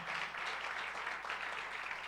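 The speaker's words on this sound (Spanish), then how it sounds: "dale ese aplauso al Rey" A church congregation applauds together, a dense, steady wash of clapping heard from within the crowd at moderate volume.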